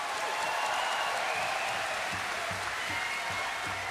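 Audience at a Celtic Connections live concert of modern Scottish songs clapping in a dense, continuous wash of applause as the band is welcomed, with a faint rhythmic clap pattern under it throughout.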